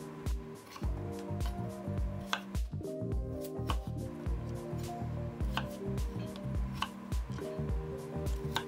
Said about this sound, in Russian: очистила от кожуры и теперь нарезаю вот такими кусочками.